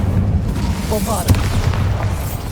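A Bombarda spell blast from the Hogwarts Legacy game booms out in a single burst, with low rumbling explosion energy layered beneath game sounds and a voice speaking over it.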